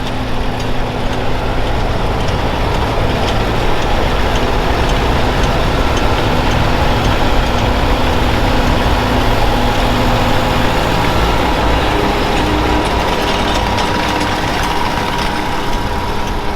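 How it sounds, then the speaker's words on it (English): A Kubota M7.173 tractor baling silage runs as a steady, loud engine drone with a low rumble, holding a constant level for the whole stretch with no pauses and no talk. "That's a serious baling tractor."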